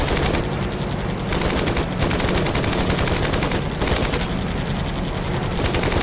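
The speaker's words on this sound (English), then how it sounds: "They are shooting, but the accuracy is not very good." Aircraft machine guns in the PC flight combat game Flying Tigers Over China fire in long, loud, continuous bursts, with two brief pauses breaking the steady rattling stream of gunfire.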